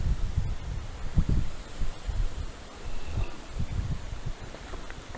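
Wind gusts steadily through leaves, a continuous broad rustle with uneven swells and small crackles, close and fairly loud, with no voices.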